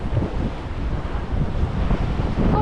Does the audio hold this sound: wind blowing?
yes